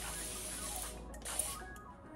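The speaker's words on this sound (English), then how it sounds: "I do have my spray bottle" A spray bottle mists water onto a section of hair during styling, giving a few short hissing spritzes over a steady background hum.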